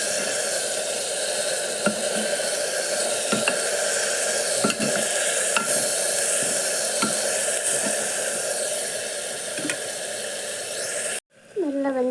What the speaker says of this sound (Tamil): தக்காளி சேர்த்துக்கலாம் அது கூடவே கொஞ்சம் கல் உப்பு சேர்த்து நல்லா கலந்து கொடுத்துக்கலாம்